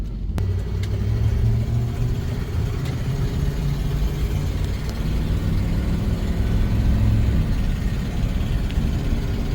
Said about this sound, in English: We're gonna take it out for a quick run through the gears.